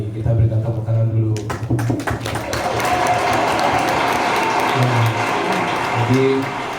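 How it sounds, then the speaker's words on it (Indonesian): Audience applause at a printing trade expo in Surabaya, a broad steady wash of clapping rising after a moment of speech and holding for several seconds, with a voice briefly heard near the start and end. "Kita berikan tepuk tangan dulu."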